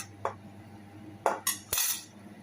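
A few sharp metallic clinks and clanks of a wok being handled as cooking oil is readied, spaced apart, close by in an otherwise quiet space.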